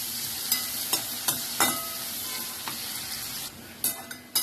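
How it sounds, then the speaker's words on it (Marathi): Onion and garlic frying in a pan for a green-chilli fish curry, a steady sizzle broken by several sharp scrapes of stirring, close and alone with no talk. "कांदा लसूण फ्राय झालेला आहे"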